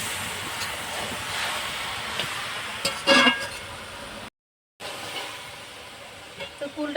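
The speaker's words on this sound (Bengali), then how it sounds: "কুলটা তো খুব ভালো করে ভেজে নিয়েছি" Jujubes for pickle fry in a wok with a steady soft sizzle and occasional scraping stirs, one louder clatter midway, then a brief gap of silence before the frying resumes.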